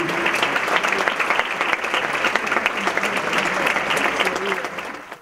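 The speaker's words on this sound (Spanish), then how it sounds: "Vamos a dar la bienvenida, también con un cálido aplauso" A conference audience gives warm, dense applause welcoming an airline manager to the stage, steady and loud throughout before tapering at the end, with a voice faintly present.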